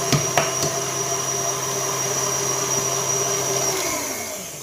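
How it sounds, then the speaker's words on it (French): Sugar, eggs and flour being mixed for homemade crème pâtissière, heard as a steady, close whirring hum that runs through the whole stretch without pause and with no voices. "Et on mélange bien le sucre, les œufs et la farine."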